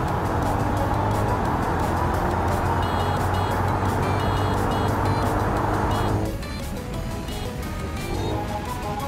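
A car engine accelerating in a video game, a loud sustained drone that holds steady then drops abruptly in pitch and level near the end.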